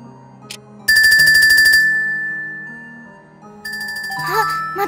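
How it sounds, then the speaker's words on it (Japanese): A ringtone-style telephone trills in two loud bursts with a pause between them, part of a horror story about a prank caller, with music or tones underneath. "あ、また電話だ。"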